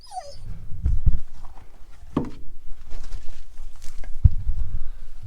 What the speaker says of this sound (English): that dog's driving me nuts